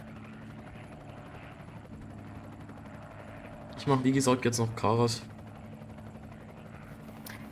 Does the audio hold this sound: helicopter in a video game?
yes